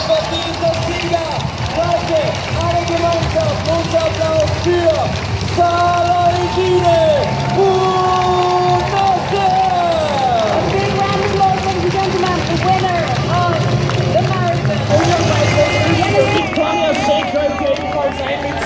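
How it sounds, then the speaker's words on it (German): At the 2018 Vienna City Marathon, a finish-line crowd applauds and cheers the women's winner. The steady roar of claps and whoops carries on under continuous announcer-style talk and background music. "alle gemeinsam, unser Applaus für Sarah!"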